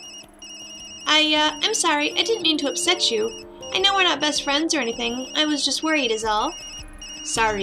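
A mobile phone rings in the video game Tokyo Dark, a steady electronic tone running beneath a conversation between characters.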